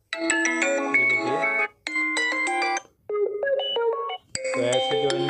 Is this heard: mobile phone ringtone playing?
yes